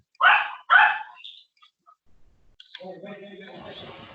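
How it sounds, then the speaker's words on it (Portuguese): Two loud, sharp dog barks in quick succession open the scene, followed after a pause by faint, higher yips or whimpers mixed with a low voice speaking. "Nossa, o cachorro é complicado."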